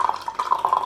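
Water is poured into a container in a short, trickling, gurgling stream with small splashes, close and moderately quiet, with no voices.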